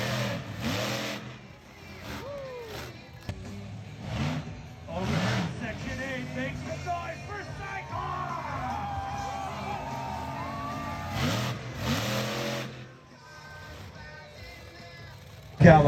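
At a monster truck night show at the Indio, California fairgrounds, an older, fairly slow monster truck's engine revs and roars in surging waves over crowd noise, with people talking nearby.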